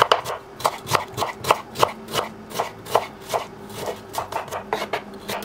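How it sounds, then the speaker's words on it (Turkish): Four dry onions are chopped with a knife on a board, about three brisk, evenly spaced thuds per second, loud and close. "İç harcı için 4 adet kuru soğanı yemeklik olacak şekilde doğruyorum."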